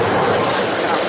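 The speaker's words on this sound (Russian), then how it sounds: "Трамвай." A city tram rolls past at close range, giving a loud and steady rumble with rail noise that lasts the whole moment.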